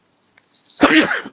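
A single sneeze, a short sharp intake followed by an abrupt burst, close and loud, alone in quiet.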